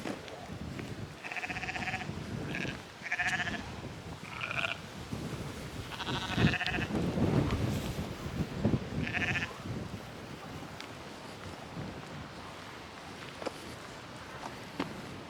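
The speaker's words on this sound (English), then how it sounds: "Sien's got a conspiracy theory that sheep on the Isle of Skye are much better looking than regular sheep." Sheep on the Isle of Skye bleat repeatedly in short, wavering calls, some close and loud, others fainter, over an outdoor rustle with occasional footsteps-like shuffling.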